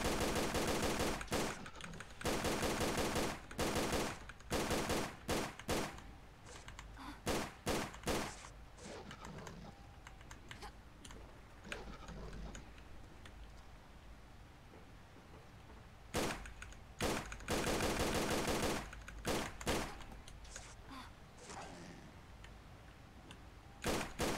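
Gunfire from shooting in Tomb Raider: The Angel of Darkness comes in loud, rapid automatic bursts separated by short quiet gaps, with clusters of shots near the start and again later.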